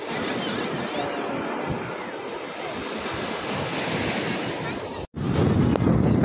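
Sea waves wash onto ECR beach in steady, close surf with gusty wind buffeting the microphone, broken by a brief dropout before louder surf resumes.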